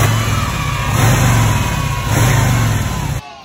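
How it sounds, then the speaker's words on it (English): A 2020 Harley-Davidson Breakout 114 motorcycle being ridden, its big V-twin rumbling loud and close with a pulsing low throb and slight surges in revs, cutting off abruptly near the end. "So just on my way back to Harley-Davidson with the Harley-Davidson Breakout 114."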